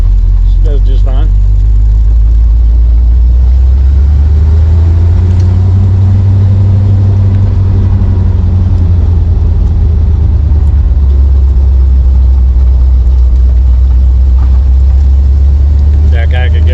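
A 1971 Corvette engine drives in second gear with a loud, heavy, low rumble that holds steady for the full length and is close to the listener, while a person talks faintly over it.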